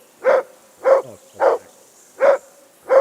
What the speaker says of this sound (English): I assume you can hear that damn dog of yours barking.